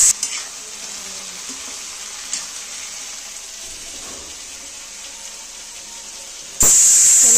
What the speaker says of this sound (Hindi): मैंने कढ़ाई रख दी है गैस पर, कढ़ाई गर्म हो चुकी है और मैंने सब्ज़ी छौंक दी